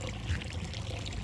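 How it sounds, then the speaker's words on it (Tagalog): Water from an aquarium overflow trickling and pouring steadily into a tank holding crayfish, a quiet continuous splashing wash with no pauses. "dun tumutulo yung tubig sa ating overflow"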